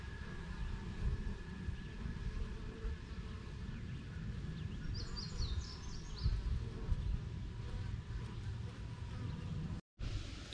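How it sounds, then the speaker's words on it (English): Busy humming buzz of many honeybees close by at their hive, a dense steady drone with a few faint chirps and no voices. "I'm this close to the hive and nobody's even caring that I'm here."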